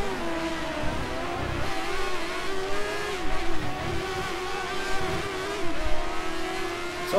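F1 race cars in a racing video game, McLarens among them, accelerating with a continuous high engine whine and shifting pitch, loud and steady throughout with no talking.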